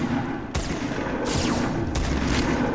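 Pump shotgun blasts in a video game, three loud, sharp booms spaced roughly a second apart over steady game noise, each with a brief bright crack and short decay.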